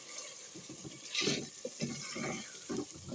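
Chopped tomatoes and green chili being stirred in a hot pan for chicken karahi, a sizzling, wet scraping of a spoon in short repeated strokes, close and clear with no talk.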